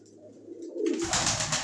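Pigeons coo softly and close by in a low, rolling call, followed by a louder burst of rustling or wing flutter near the end.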